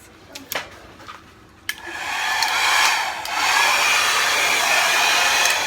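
A hair dryer switches on after a few light clicks and blows a loud, steady airy roar across paint in an acrylic pour, with a slight shift in pitch midway.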